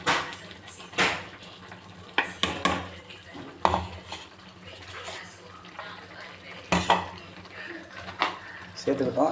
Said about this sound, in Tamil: சேர்த்துட்டு நல்லா மிக்ஸ் பண்ணி விட்டுப்போம்